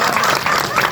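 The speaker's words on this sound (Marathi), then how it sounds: "या सागर दादासाठी जरा टाळ्या वाजवा" Loud, dense clapping from the audience at a live hypnosis show, a brief burst of many hands applauding close to the microphone, with crowd noise mixed in.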